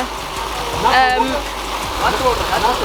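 Natural spring water flows at a village well in a Tamil farming village, a steady close rush. A voice speaks over it partway through.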